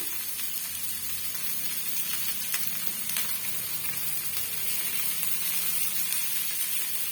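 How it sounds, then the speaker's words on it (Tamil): Tomatoes sizzle on a dosa tawa in a steady, even hiss of frying that runs unbroken and fairly quiet throughout. "இந்த தக்காளி பழம் மட்டும் திருப்பி விட்டுக்கலாங்க அப்போதான் வந்து இன்னொரு சைடும் நல்லா வெந்து வரும்"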